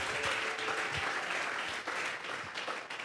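A church congregation bursting into sustained applause as an offering of praise, a dense steady wash of clapping from many hands filling the room for several seconds.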